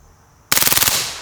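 A short burst of about eight rapid, loud shots from an AP5-P, an MP5-K clone, fired after a moment of quiet and stopping abruptly on a jam, with a brief ringing tail.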